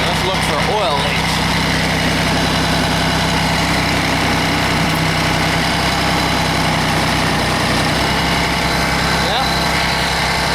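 A John Deere 855 compact tractor's engine runs steadily after being cranked, a loud, continuous low-pitched idle with constant vibration and no clear voices on top.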